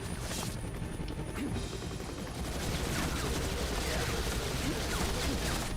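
Helicopter pursuing the player in the video game X-Men Origins Wolverine, a loud continuous rotor roar with dense rattling gunfire-like bursts throughout, game audio with no speech.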